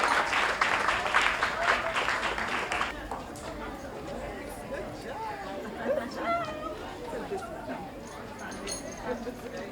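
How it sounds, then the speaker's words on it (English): Applause from the audience at the closing ceremony of a national schools science fair, loud and dense for the first few seconds and then thinning into scattered clapping beneath crowd chatter and a voice talking. "A round of applause for them as they come to collect their trophy."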